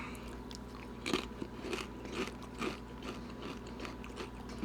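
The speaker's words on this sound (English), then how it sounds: "I was so ready to start chewing" Crunchy homemade tacos and nachos being bitten and chewed close up, a series of loud crisp crunches and bites repeating every second or so over a low steady hum, with no talking.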